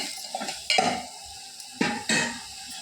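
Food sizzles in a hot pan while a utensil scrapes and stirs in a few short bursts, with no talking.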